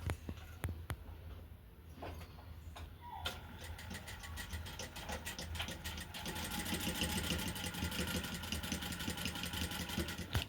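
A sewing machine stitches a blouse with quiet, rapid, even ticking that starts in scattered taps and settles into a continuous running rhythm, faint and close with no talk.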